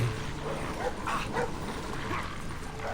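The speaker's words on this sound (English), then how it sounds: "You can see the third one is there barking at me." A guard dog in the stealth game Splinter Cell Blacklist barks repeatedly at fairly close range, a string of sharp yips and woofs over low game ambience.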